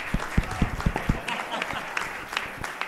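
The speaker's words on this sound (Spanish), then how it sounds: "Un aplauso para los dos." A small group at a Trivial podcast event claps, sharp hand claps at first, then blending into lighter scattered applause with faint voices underneath.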